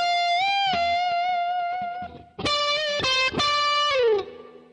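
Electric guitar blues phrase with wide vibrato on a held note and a quick string bend, several sustained, lightly driven notes ringing alone with no talk.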